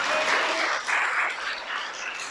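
A congregation claps for the Creator during an evangelical sermon, a dense, steady wash of applause that swells and dips in waves across the moment.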